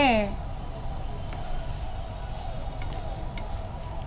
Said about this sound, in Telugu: సో ఇది ఫ్రై చేసుకుందాము ఆనియన్ పేస్ట్